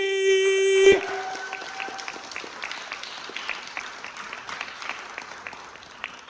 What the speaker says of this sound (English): can we please have the best of order and a massive round of applause for Kelsey!